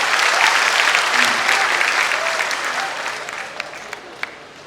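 Audience applause at a mushaira in Chandivali, Mumbai, a dense burst of clapping from a large crowd that starts loud and gradually fades, with a few isolated claps near the end.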